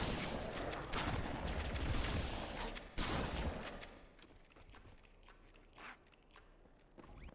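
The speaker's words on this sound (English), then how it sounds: "And then I'll go in with the kill with the shotgun." Close shotgun blasts in Halo 2, fired in a campaign mission against Jackals, with dense overlapping shots and impacts crowding the first three seconds before quieter, sparser hits and movement follow.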